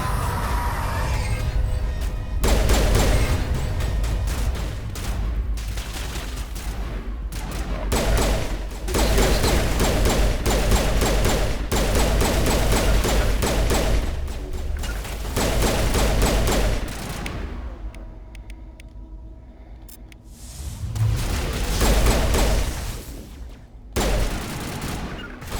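Sustained bursts of rapid gunfire in the video game Mass Effect Legendary Edition, loud and dense, broken by short pauses and thuds over about twenty-five seconds.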